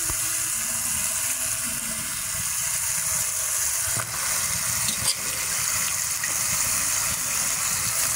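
Chicken skin frying in spiced oil in a pan, a steady loud sizzle filling the whole clip with a few brief stirring knocks around the middle, no voices.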